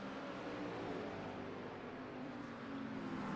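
Race car engines in a sim racing broadcast of a two-hour event at the Glen hum as a steady, faint drone, with no commentary over them.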